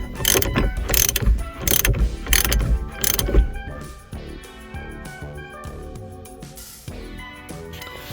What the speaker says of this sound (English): So now we're just gonna get the adapter screwed on,